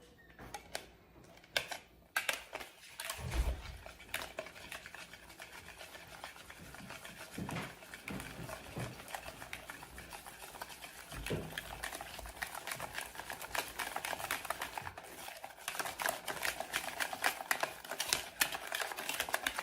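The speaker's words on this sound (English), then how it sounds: "1 large egg, and now we are going to whisk this together" Egg and nut milk being whisked into protein pancake batter in a bowl, a quick steady clatter and patter of the whisk running continuously for about twenty seconds, close and moderately loud, growing slightly busier toward the end.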